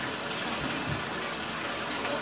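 Water gushes from a tap for a puppy's bath, a loud, steady rushing flow filling the space without pause.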